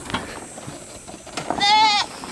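Among scattered rustling and knocks, a goat lets out one short, clear bleat close by near the end.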